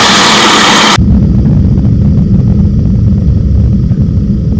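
A Falcon LS light aircraft's engine throttled back to idle on landing, a steady loud drone with heavy wind rush that drops in brightness after the first second and continues alone.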